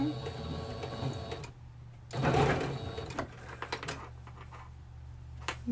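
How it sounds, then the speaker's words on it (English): A home sewing machine runs across a shoulder seam in short bursts of rapid stitching, stopping and restarting for back and forward stitches, with quiet handling clicks between runs at moderate closeness. "So just sew right across, back stitch, forward stitch, back stitch again."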